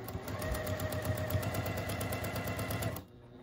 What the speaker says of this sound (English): We're going to sew down to this corner, this first corner.